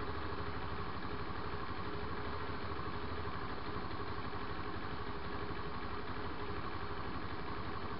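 A Honda AN125 motorcycle engine idles steadily and evenly at 1500 rpm while cold, a continuous mid-pitched rumble with no talking.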